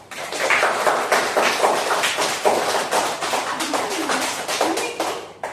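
A roomful of schoolchildren claps together in welcome inside a smart-board classroom, a dense, steady patter of many hands sustained for several seconds at close range with no talking.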